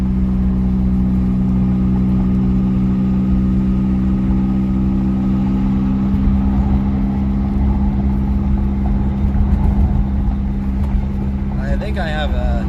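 A Mazda RX-7 rotary engine drones steadily from inside the cabin while driving at moderate speed, held around 6,000 rpm, a loud, continuous hum with a few faint high chirps near the end.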